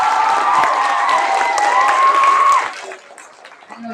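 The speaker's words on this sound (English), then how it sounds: "I would like to give a round of applause to all the BCS students who have participated in the competitions in the classroom." Applause from a classroom audience for students after a speech competition, clapping heard under a sustained tonal hum that cuts off partway, leaving softer scattered claps.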